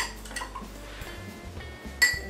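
A spoon mixes pumpkin and pumpkin spices in a cup, with soft scraping and light clinks, then one sharper ring of metal against the cup near the end. Quiet and close, with no speech.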